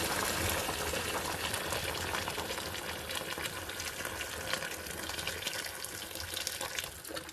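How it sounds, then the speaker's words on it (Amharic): Boiling water is poured over a chicken in a pot, a loud steady splashing gush that runs the whole time and tapers slightly at the end. "የፈላ ውሃ ከልስባታለሁ።"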